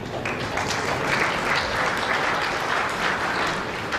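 Crowd applause at a lawn bowls match, a steady, even wash of clapping that holds for several seconds with no talk over it, moderately distant and sustained.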